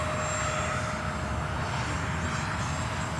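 RC electric ducted-fan model jet flying a horizontal figure eight over a field bordered by trees, a steady airy whine and rush that holds level throughout, moderately loud and unbroken.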